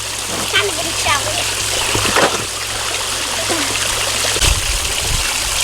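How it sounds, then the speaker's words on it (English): A toy backhoe scoops and splashes pond water, giving continuous close trickling and splatter with a few sharper splashes, while children and adults talk over it. "Just a scoop of water."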